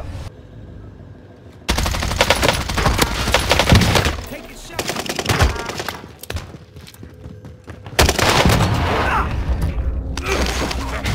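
Vanguard PPSh submachine gun firing in Warzone Season 3, heard as loud, dense bursts of rapid automatic fire in long sustained strings, broken by brief pauses and mixed with game mechanical and impact sounds.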